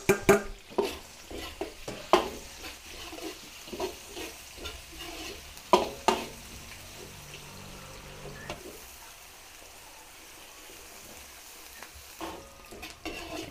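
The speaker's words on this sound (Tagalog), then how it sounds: "Gisahin lang po natin maigi yung bawang para mabango ang ating bawang" Garlic and onion sautéing in a pan for pork giniling, with spatula stirring and scraping in irregular bursts over a soft sizzle that settles into a quieter steady fry near the end.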